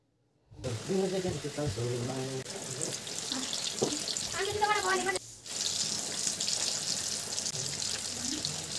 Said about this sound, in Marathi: आता वडे घेऊन बेसनमध्ये बुडवून बेसन पिठामध्ये हे आता तळून घेऊत आपण वडे